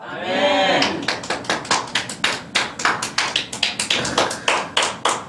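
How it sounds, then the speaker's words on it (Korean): During a church worship sermon the congregation claps in unison, sharp, evenly spaced hits at a brisk steady rhythm that follow a short moment of voice at the start. "제가 생각해도 박수 칠만해"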